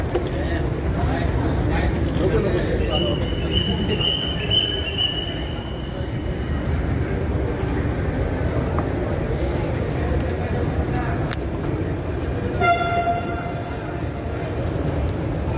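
A Pune Metro train rumbles steadily with a rising electric whine as it arrives at District Court station, and a short electronic chime sounds near the end amid a murmur of voices.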